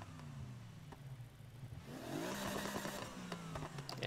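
A BMW M3 E92 engine and exhaust in the video game Need for Speed Heat idles with a low drone, then revs up and climbs in pitch about halfway through, whining and rising before settling. Fairly quiet overall.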